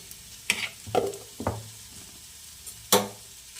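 Okra frying in a pan with a spoonful of ginger garlic paste added gives quiet sizzles and a few stirring scrapes, in short separate bursts over a low background hiss.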